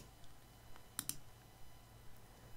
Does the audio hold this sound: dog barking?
no